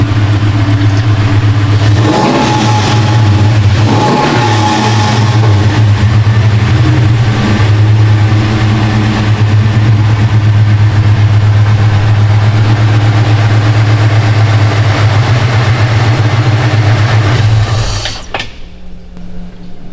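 Lowered Fox body Mustang with a Coyote engine swap, idling with a steady low rumble and occasional revs, loud and close, before the engine cuts off near the end.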